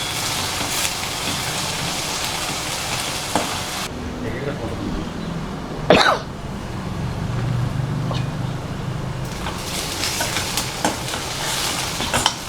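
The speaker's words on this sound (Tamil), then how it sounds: "வெங்காயம் நல்லா வதங்கிடுச்சுங்க" Small onions sautéing in a pan while being cooked down for kuzhi paniyaram: a steady, close sizzle with occasional stirring scrapes, briefly quieter midway, and a voice speaking over it.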